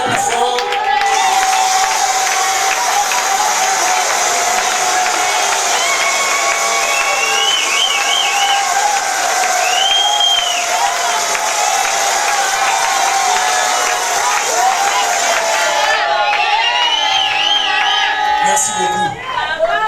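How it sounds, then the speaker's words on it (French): A crowd of guests at a family celebration claps, cheers and whoops for a long stretch over ongoing music, with voices chattering and calling out throughout. "Applaudissons plus fort."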